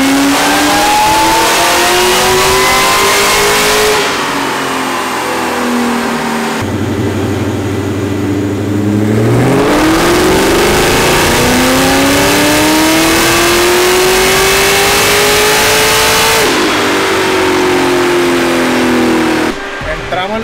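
A 680 hp Ford Mustang Cobra Terminator with boost revs hard and accelerates through several gears, the loud engine note rising and dropping at each shift, close and roaring throughout.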